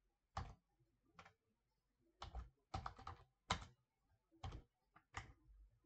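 Keys clattering on a computer keyboard while a script is typed, about a dozen crisp clicks in uneven bursts and single taps, quiet and close, with silence between them.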